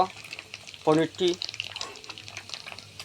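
Paneer pieces fry lightly in a pan with a soft, low sizzle and some faint scraping, while a voice briefly speaks over it partway through.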